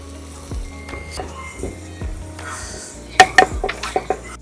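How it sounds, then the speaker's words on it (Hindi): Spices tempering in hot oil in a pan at a campsite give a bright sizzle, with several sharp metallic clinks and scrapes of a utensil against the pan up close. "तड़का लग रहा है एक नंबर, शानदार।"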